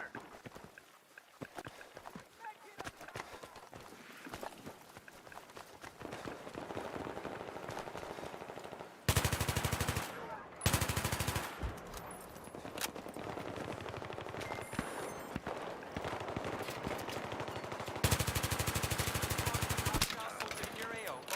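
Machine gun fire in Battlefield 3, with several loud sustained bursts over dense game noise, and a voice talking at times.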